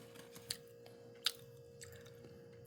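Someone chews sweet potato close up, with soft moist chewing and a few sharp crisp bites spaced out over a quiet, humming background.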